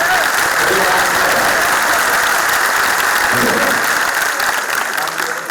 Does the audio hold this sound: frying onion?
no